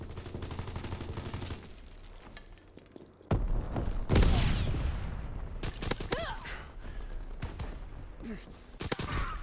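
Video game combat with gunfire at enemy aircraft: bursts of rapid shots and booming impacts at close range, dense and loud, along with a radio-style voice and game effects.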